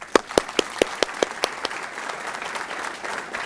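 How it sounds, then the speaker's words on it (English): Audience applause for court officers at a circuit court judge's investiture ceremony, opening with a few sharp distinct claps that quickly blend into a steady, moderately loud wash of clapping from a crowd. "I'd like to give them a round of applause."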